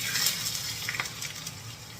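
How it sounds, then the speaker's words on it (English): Cream pours into a hot frying pan that just held Swedish Christmas meatballs, giving a soft, steady splashing gush with a light sizzle at moderate volume and no voices. "I take some cream, just put it in."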